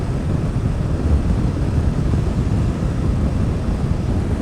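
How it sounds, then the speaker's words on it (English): Riding a Suzuki GSX-8R motorcycle produces a loud, steady wind blast: a dense, low roaring rush of air buffeting the microphone that continues without a break, with no talking. "This much of wind blast I can endure, or it's not painful, but it's wind and noisy"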